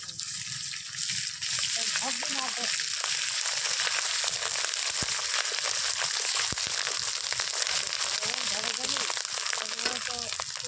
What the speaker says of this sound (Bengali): এবার আমি আদা বাটা দিয়ে ভালো করে কষিয়ে নেব।